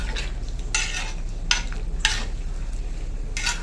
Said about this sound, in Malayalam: മുന്തിരിയും കൂടെ ഇട്ട് നമുക്കൊന്ന് മിക്സ് ചെയ്യാം